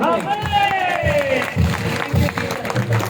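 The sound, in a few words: applause, clapping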